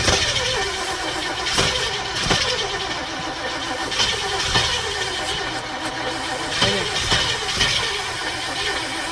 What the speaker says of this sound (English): this bus takes a lot of juice to crank over